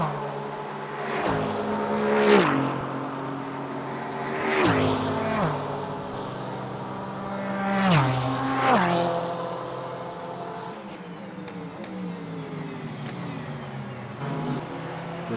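GT3 race cars, a McLaren among them battling an Audi, lap the Daytona road course in a racing sim. Engines rev and drop pitch through repeated gear shifts, and the cars pass close and loud several times in a row. A commentator talks over the engines.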